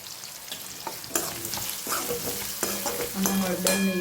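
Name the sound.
stirring and frying potatoes in a pan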